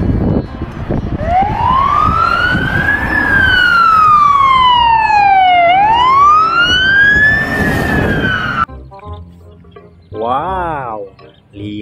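A toy police car siren wails loudly, sweeping up and down continuously, close by, then cuts off; a shorter warbling siren burst follows. No speech.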